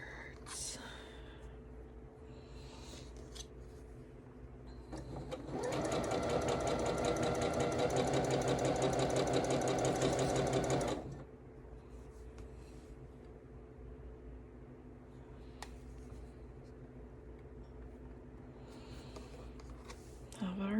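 A sewing machine stitches quilt fabric in one continuous, fast, rattling run of about five seconds, loud and close, between quieter stretches of room noise with faint handling clicks.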